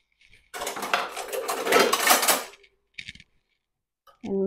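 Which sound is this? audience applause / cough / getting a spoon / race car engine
getting a spoon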